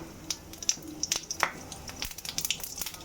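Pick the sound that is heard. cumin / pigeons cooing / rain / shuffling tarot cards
cumin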